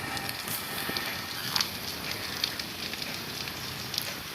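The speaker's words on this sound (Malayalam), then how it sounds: "നമ്മൾ മീറ്റ് കുക്ക് ചെയ്തിട്ടേക്കാം." A campfire cooks meat in the mobile version of ARK Survival Evolved, giving a steady soft crackle and hiss with scattered sharp pops throughout and no voices.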